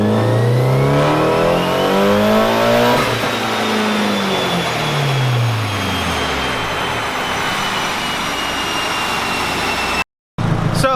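A Nissan 240 engine is revved hard during a dyno pull, climbing quickly to a loud high-pitched scream before the tone sweeps back down and holds a roaring drone, then cuts off abruptly near the end.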